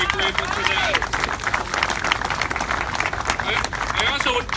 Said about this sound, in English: if you give those city workers a round of applause